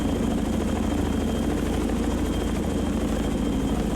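A CH-46 helicopter in the naval video game Sea Power drones with a steady, dense rotor and engine roar, loud and unbroken throughout, with no talking over it.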